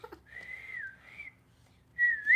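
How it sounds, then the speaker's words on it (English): A person whistles a couple of short, wavering tonal phrases: a sustained melodic line, a brief pause, then a louder rising-and-falling burst at the end, close and clear with no talking. "he learned how to whistle."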